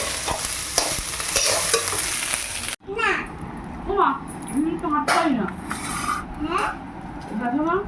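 Food sizzles and crackles in hot oil in a dense, steady hiss that cuts off abruptly after a few seconds. A voice then talks over softer kitchen noises.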